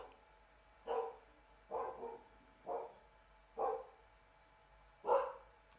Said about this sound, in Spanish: hasta los perros ladraban cuando estaban cerca